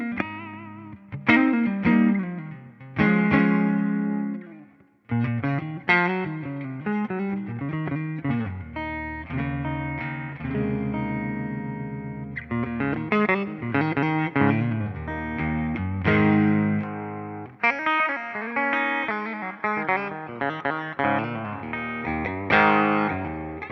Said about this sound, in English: Here's my clean tone on the neck pickup.